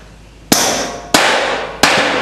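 A rubber mallet knocks metal staircase treads into grooves on the stringers of a waterslide staircase before welding: three sharp, close, ringing clangs, each decaying slowly, spaced about half a second apart with no talk.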